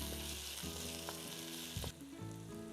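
Garlic and sofrito vegetables sizzle steadily in a pot for pork sugo, a continuous close frying hiss with a few soft stirring knocks and a brief dip before the sizzle resumes.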